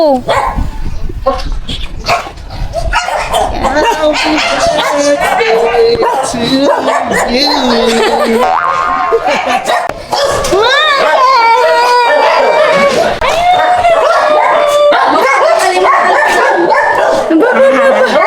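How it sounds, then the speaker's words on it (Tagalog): Many dogs bark and yip continuously and loudly, close by, with excited whines mixed in and people talking over the din. "Daming aso. Baka daming aso."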